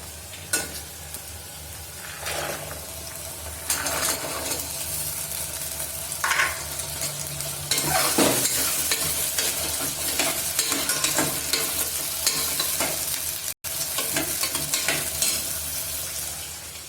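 Green peas with masalas and onion fry in a pan for veg pulao, a continuous close sizzle broken by repeated stirring scrapes, with no one talking.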